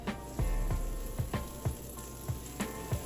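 Unsalted butter sizzles in a hot pan for toasting buns, a steady close frying hiss broken by several soft thumps and scrapes, with no voices.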